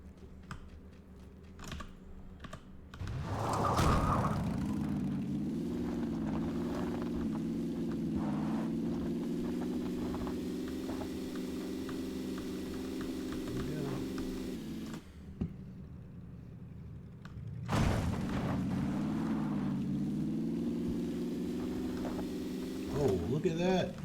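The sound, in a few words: motorbike engine in PlayerUnknown's Battlegrounds video game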